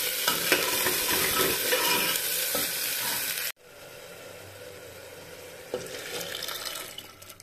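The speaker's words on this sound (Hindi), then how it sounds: "तड़का लग रहा है।" Spices for a tadka sizzle in hot oil, with potatoes, in a home kitchen: a steady, dense crackling hiss that cuts off abruptly midway, then resumes more softly with occasional stirring.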